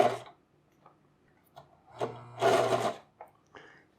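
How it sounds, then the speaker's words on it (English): A sewing machine stitching fabric in short, separate bursts of fast mechanical whirring and ticking, the longest run in the middle, with quiet pauses between them. "I need it underneath to start sewing."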